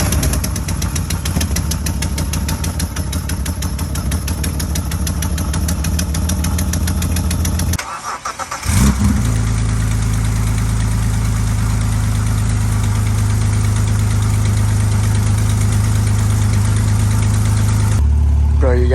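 BMW E46 engine fitted with aftermarket eBay headers cranks and fires, then settles into a loud, steady idle with a deep rumbling drone, close up and without talk, after a brief gap in running sound.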